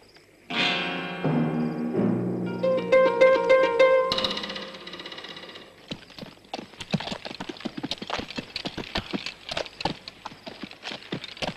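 Horses clip-clopping along in a 1966 western film scene, a steady run of close hoofbeats that starts after a swell of orchestral music and carries on alone to the end.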